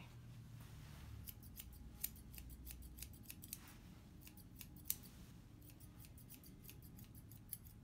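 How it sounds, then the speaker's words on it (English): Grooming scissors trimming a Yorkshire terrier's coat up close, quiet rapid metallic snips coming in bursts and clusters over a soft room hum, with no voices. "So I'm just trying to get this trimmed off."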